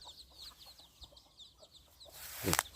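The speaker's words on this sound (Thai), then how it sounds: "ไม่ไก่ลูกไก่ก็หากิน นะครับ ธรรมชาตินี่ไก่ เขาก็ปล่อยไว้เลยนะครับ" Free-ranging chickens and chicks forage in a rice field, giving soft scattered clucks and peeps over outdoor ambience, with a brief louder rustling burst near the end.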